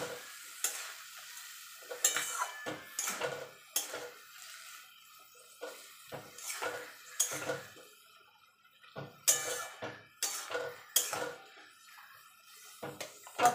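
A spoon scrapes and clatters against a pan as a paste of black mustard and poppy seed is stirred, irregular bursts of metal knocks and scraping over a faint sizzle, with quiet gaps between strokes.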